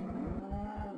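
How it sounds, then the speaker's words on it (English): A cow in Minecraft gives a single low, drawn-out moo, close and clear, with no speech over it. "Cow."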